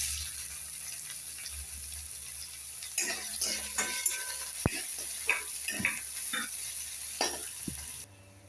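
Onions dropped into hot oil for a cauliflower curry sizzle with a steady frying hiss, and clattering stirring and scraping sounds come through from about three seconds in.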